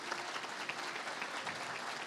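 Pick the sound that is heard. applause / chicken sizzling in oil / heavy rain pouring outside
applause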